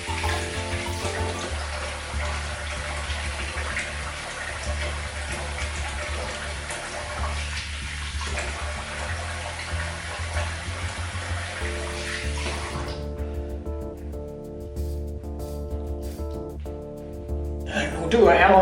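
Tap water runs steadily into a sink for rinsing a face after a shave, a continuous broadband rush that cuts off near the end, leaving a quiet room with faint faucet drips.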